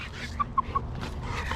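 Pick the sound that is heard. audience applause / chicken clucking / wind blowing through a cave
chicken clucking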